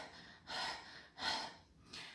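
Rapid, shallow chest breathing demonstrates anxious hyperventilation: three quick, breathy inhalations and exhalations in steady rhythm, close and fairly quiet with no speech.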